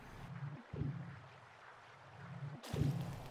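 A boy character in the video game Inside swims through water, with a few splashy strokes and a muffled underwater wash at the start and again near the end, quiet low lapping between.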